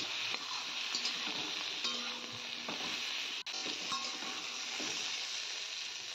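Pointed gourd (potol) seasoned with turmeric and salt sizzles steadily in a hot pan, with soft scraping and clicking stirs breaking through the frying hiss; close and continuous, no talk.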